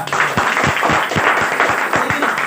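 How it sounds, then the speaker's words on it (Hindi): An audience at a business seminar in Delhi claps loudly for about two and a half seconds, with distinct strong hand claps over a dense, even wash of applause. "इस बार के जोरदार तालियां"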